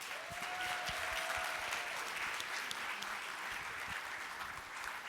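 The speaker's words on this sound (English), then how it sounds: "So let's give ourselves a round of applause." Conference audience of several hundred applauding in a large hall, a steady wash of clapping heard from a distance, with a brief voice sounding near the start.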